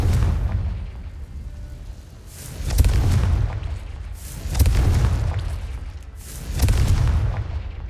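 Confringo fire-spell blasts in Hogwarts Legacy, three loud booming explosions roughly two seconds apart, each swelling and rumbling over continuous game background noise.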